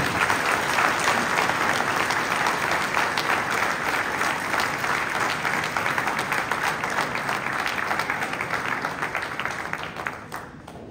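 Sustained applause from a large crowd at a French mayor's New Year address, steady and full throughout, tapering slightly at the very end.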